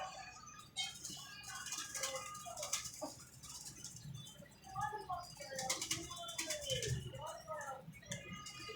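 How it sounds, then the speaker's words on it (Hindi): Ferozpuri pigeons on a rooftop, with soft cooing and the flutter of wings through the whole stretch, steady background hiss, and someone talking over parts of it. "ये छत वाला जोड़ा भी फिरोजपुरिया कबूतर और छत वाली मादी देख लो।"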